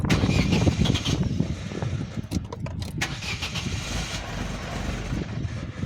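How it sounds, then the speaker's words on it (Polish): An Opel Astra engine cranks and turns over, then settles into a low, steady idle, close by and with no talking. "Teraz będzie odpalenie samochodu"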